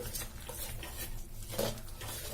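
Sautéed masala being stirred into dosa batter with a ladle, soft, steady scraping and squelching close by with a brief utensil clink partway through.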